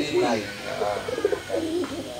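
Pigeons kept for competition coo softly in a few short, repeated phrases at close range, with voices faintly present in the background.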